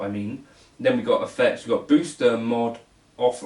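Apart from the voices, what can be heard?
None of the usual background noises is heard.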